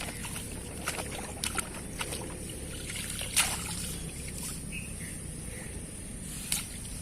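Water trickles and splashes outdoors on a farm, a faint steady flow with small sporadic drips and gurgles close by.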